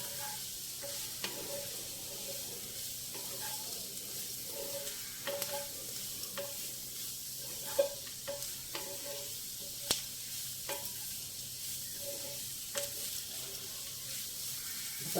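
Grated radish for a moong dal curry fries in a pan, a soft, steady sizzle broken by regular scraping strokes of a spoon stirring it. There is no voice.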